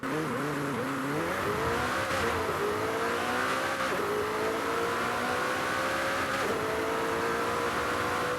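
A McLaren GT engine in Forza Horizon 5 revs and climbs through gears, the pitch rising then dropping at each shift, loud and close with a sustained roar.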